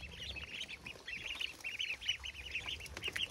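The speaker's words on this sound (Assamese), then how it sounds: "আৰু এইফালে চাওক হাঁহখিনি" Ducks raised without a pond quack busily and repeatedly while being fed a water-mixed mash, a steady chorus of nasal calls over faint background noise, with no talking.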